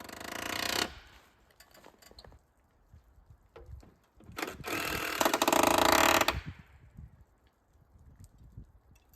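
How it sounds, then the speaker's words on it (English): Electric nailer driving nails into metal joist hangers on a garage door eyebrow build: a sharp mechanical burst, scattered clicks and clanks, then a longer loud whirring, rattling drive that tails off, with no talk. "I used an electric nailer to help me put in all of the nails for the joist hangers"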